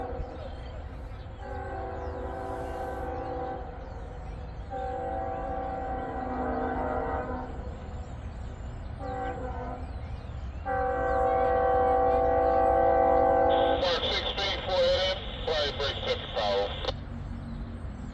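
CSX ES44AH and SD70AC locomotives running as light power at Rosedale, Maryland rumble past with steady diesel drone, repeated loud horn blasts, and a higher bell or whistle toward the end, with faint radio chatter.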